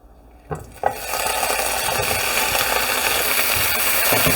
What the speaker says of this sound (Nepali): अब थोरै तेल राखौँ। अब क्वार्टर चम्चा जति बेसार राखिदिउँ यसमा पनि। अब भिन्डीलाई पनि राखौँ।